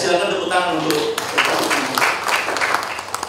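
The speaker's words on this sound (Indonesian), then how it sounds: "silakan tepuk tangan untuk" An audience at an official event bursts into applause, a dense, steady patter of many hands clapping that begins just after a voice and continues through the rest.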